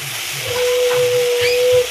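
Banana blossom with chili powder sautés in a pan for a shrimp dish, making a loud, steady hiss that holds throughout with a thin, faint whine running underneath.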